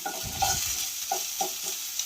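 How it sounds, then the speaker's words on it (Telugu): Chicken malai handi gravy being stirred in a pan, with soft, uneven scraping strokes over a low sizzle, close and fairly quiet, with no talking. "ఇది నీట్గా మనం మిక్స్ చేసుకోవాలి."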